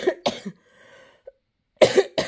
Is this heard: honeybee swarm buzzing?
no